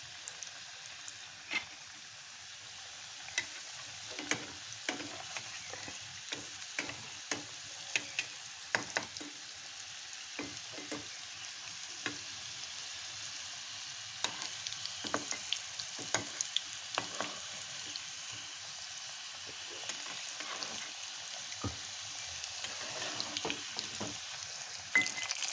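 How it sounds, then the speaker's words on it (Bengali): Labanga latika sweets fry in oil on low-to-medium heat, a few pieces in the pan, giving a quiet, continuous sizzle scattered with small crackles and pops throughout. "তেলটা আমি দিয়ে দিলাম, আর এটা আঁচটা কমিয়ে দিলাম, লো টু মিডিয়াম হিটে ভাজতে হবে"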